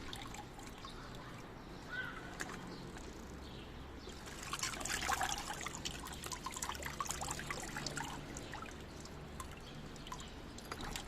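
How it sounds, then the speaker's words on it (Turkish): Water trickling and pouring into a container to soak succulent plants, a soft steady dribble with a fuller splashing stretch in the middle, fairly faint. "Ve suyun bittikçe tekrar su ekliyorum."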